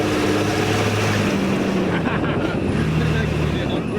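A Nissan Pathfinder drives off-road in four-wheel forward drive, its engine a steady low rumble with broadband road and wind noise throughout; faint voices sit under the drone.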